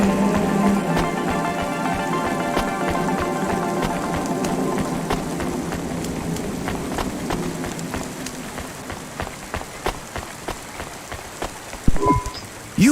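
Steady rain falls across a city street in the video game Cloudpunk, a dense constant patter and hiss that thins out later, with a few sharper drips and thuds near the end.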